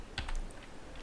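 A few quick keystrokes on a computer keyboard while entering commands in a terminal, a short cluster of light clicks close by, then quiet.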